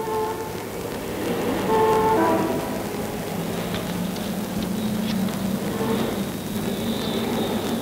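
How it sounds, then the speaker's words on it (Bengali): A car horn toots amid street traffic near a roadside tea stall, set against a steady background of passing vehicles and rumble, with a few tonal honks standing out briefly. "এত কি চিন্তা করিস বলতো যে গাড়ির হর্ন শুনতে পাস না?"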